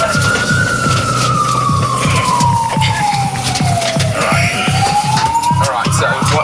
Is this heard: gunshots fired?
no